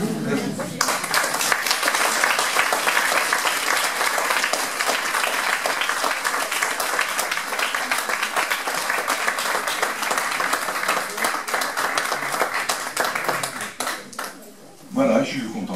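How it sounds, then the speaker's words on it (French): Sustained applause from a large lecture audience, dense steady clapping that carries on for many seconds before briefly thinning near the end. "je suis content de vos applaudissements"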